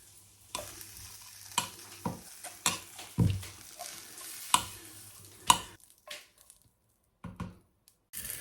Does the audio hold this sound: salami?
yes